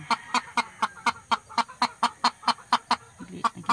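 A hen clucks noisily while laying eggs, giving a regular series of about fourteen sharp, evenly spaced clucks close by. The clucks come in a steady rhythm with faint background noise.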